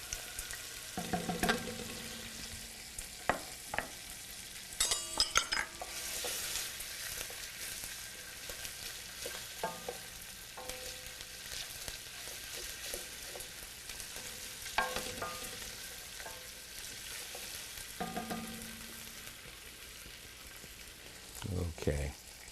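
Garlic frying in a pan for pasta alla carbonara, a quiet low sizzle with occasional clinks and scrapes of stirring, fairly faint and without talk.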